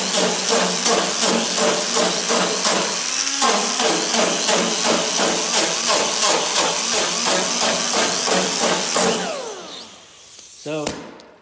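Angle grinder working a weld on a metal door skin patch panel: a steady loud grinding whine with rhythmic pulsing runs for about nine seconds, then spins down to quieter scraping and a brief clunk near the end.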